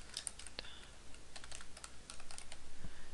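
Soft, quick keystrokes on a computer keyboard as a document title is typed in Google Docs, faint and steady over a hissy background.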